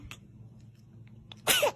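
A baby's single short sneeze comes near the end after a quiet stretch with faint sounds, close and fairly loud.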